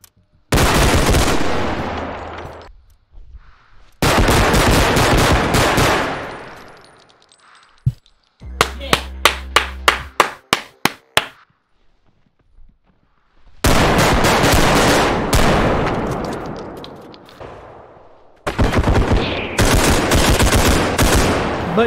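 Gunfire from the video game Bodycam: long bursts of loud automatic fire alternate with brief silences and a stretch of rapid separate shots with metallic clinks, close and harsh, with no talking over it.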